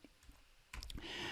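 A few keys click on a computer keyboard as an IP address is typed into a Telnet session, with scattered taps followed by a short, denser run of keystrokes.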